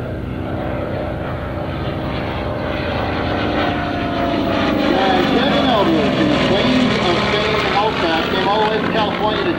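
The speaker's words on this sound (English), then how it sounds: "Aichi Val is one of the main attack weapons that the Japanese used on the terrible attack on Pearl Harbor" A WWII Aichi Val Japanese Navy dive bomber flies past at a World War II weekend airshow. Its propeller engine drones loud and close, swelling as it passes, while an announcer talks over it.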